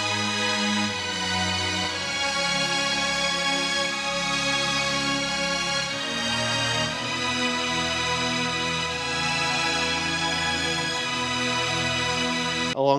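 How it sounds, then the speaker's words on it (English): Dense, sustained pad-like string section in an arrangement of a song, a continuous full wash of held tones that shifts chords around six seconds, steady and loud with no voices. "not including the more pad-like string section, which sounds something like this."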